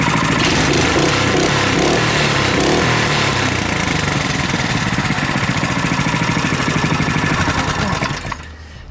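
Modified Tecumseh T196 go-kart engine running steadily and loud, a continuous rough small-engine drone with pulsing exhaust, holding constant throttle before cutting off abruptly near the end.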